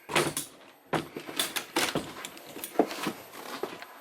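A cupboard door inside a Rapido 855F RV is opened and shut several times, giving a series of close, sharp knocks and clatters with short pauses between them.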